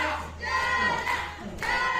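Crowd at a JPPW wrestling charity event cheering and shouting for wrestler Jana Raimi after a German suplex, a steady roar of voices filling the space and swelling in waves.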